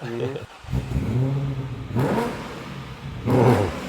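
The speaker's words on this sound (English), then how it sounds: "So it sounds like an American car, muscle car. Now it sounds like a NASCAR." Porsche 928 with a 5-liter V8 revs in bursts, its harmonic engine note climbing and falling several times, close and fairly loud, alternating with someone talking.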